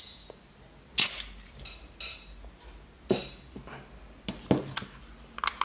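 WE gas blowback airsoft pistol dry-fired with no BBs loaded, giving four sharp, close cracks spaced about a second apart, followed by a few lighter clicks and metallic handling noises.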